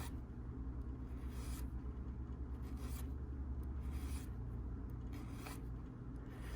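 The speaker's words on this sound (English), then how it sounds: "So you're just going to keep filing" Faint, rhythmic rasping strokes of a hand file working a silver tube at a silversmith's bench repeat about once a second against a low background rumble, with no voices.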